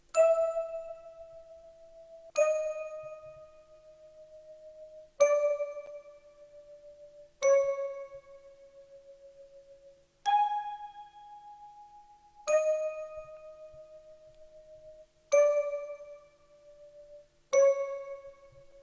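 Roland D-50 bell preset layered with the Happy Whistle preset plays eight clear struck chimes, one roughly every two and a half seconds, each ringing out and fading over near-silence.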